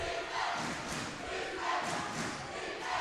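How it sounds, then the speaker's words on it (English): A crowd at a women's college basketball Final Four game roars and cheers steadily in a large gym, loud and continuous with no clear speech. "You can hear the defense cheer erupting, but Rojas gonna put two more away for the T"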